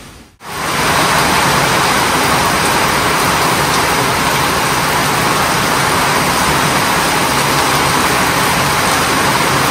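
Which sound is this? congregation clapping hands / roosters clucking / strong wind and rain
strong wind and rain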